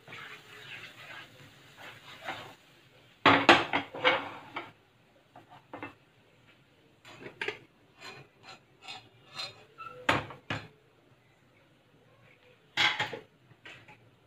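Masala for spicy chole going into a pressure cooker and being stirred: a metal spoon scrapes and clanks against the cooker in uneven bursts, some loud and close, with quieter gaps between.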